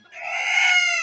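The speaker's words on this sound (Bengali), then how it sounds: "এগুলা কিন্তু আমাদের মুরগি, এগুলা ডিম থেকেও মূলত আমরা বাচ্চাগুলো ফুটিয়েছি। এই ধরনের মোরগ" A farm chicken or rooster gives a single short, clear call up close, a strained rising cackle lasting about a second in otherwise quiet surroundings.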